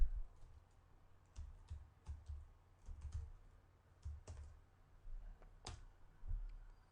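Quiet, scattered mouse and keyboard clicks sound at irregular intervals while components are placed in a Java GUI editor, with soft, close taps separated by near silence.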